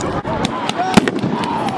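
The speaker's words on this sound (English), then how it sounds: "The fireworks are being popped." Fireworks burst over a freeway near a stadium on New Year's Eve: a quick string of sharp pops and cracks in close succession, with a faint voice in the background.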